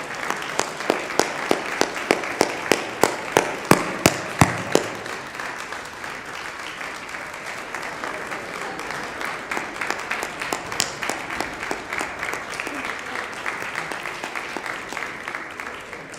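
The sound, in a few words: audience applause at a bar mitzvah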